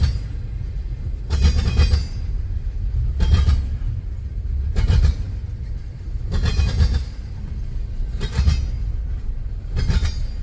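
CSX freight train with intermodal tank cars rolling past near North Baltimore, Ohio: a continuous low rumble broken by regular clattering bursts as wheels cross rail joints, about every one and a half seconds, steady and fairly close.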